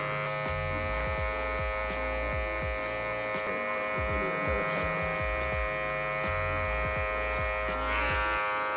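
Electric hair clippers buzz steadily while cutting hair behind the ear with the blade lever fully closed during a comb-over fade, a close, constant hum with faint snipping texture and no speech.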